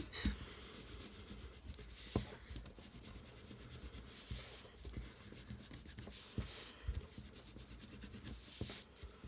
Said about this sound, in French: on peut prendre hop, une gomme et gommer le cercle qu'on a fait au tout départ